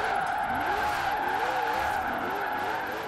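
A hypercar drifts in the racing game Forza Horizon 4, its steady engine drone joined by long, wavering tire squeal that carries throughout at a constant level.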